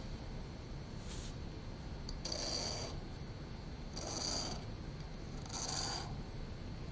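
A sharpening stone drawn across the top of a lathe bit to deburr it, three slow, soft scraping strokes evenly spaced, faint and close in a quiet room.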